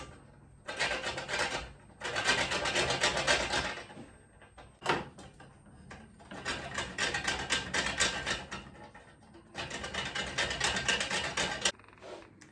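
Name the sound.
grating nutmeg on a grater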